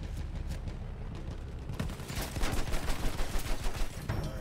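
Dense gunfire from the video game Battlefield 1, rapid overlapping shots and bursts that swell louder and more chaotic partway through, with no talk.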